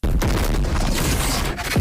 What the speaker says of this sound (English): The explosion vaporizes the throne.